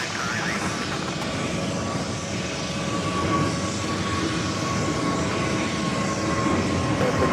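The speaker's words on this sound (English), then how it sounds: "I will head to the next takeoff," Jet airliner taking off from runway 4 Left at JFK airport, a steady distant engine roar that builds slightly over several seconds, with faint background noise.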